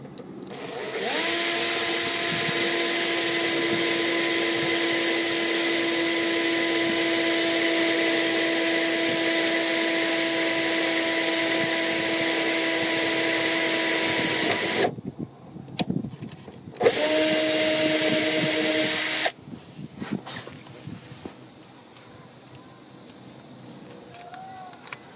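A power drill bores a hole through the body of a Toyota AE111 for side-step reinforcement, running loud and steady for about fifteen seconds, then stopping, starting again for a short burst and quieting.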